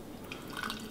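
Arvon Brewing Märzen, an amber Oktoberfest beer, is poured into a mug, giving a soft, brief splashing and trickling of liquid that is faint and close, with no talking.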